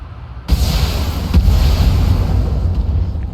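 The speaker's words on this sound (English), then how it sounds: "Oh, we got an ammo explosion." An ammunition explosion in the BattleTech video game hits with a sudden heavy boom, then a dense low rumbling roar that keeps going, with a faint crackle partway through.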